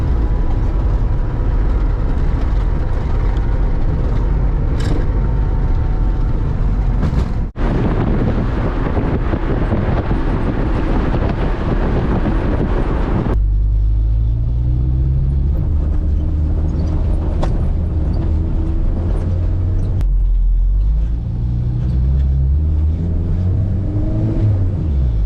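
A KRX side-by-side runs its engine in Mexico while being shifted through the gears: a loud, steady drone with rising and falling pitch sweeps, buffeted by heavy wind noise throughout.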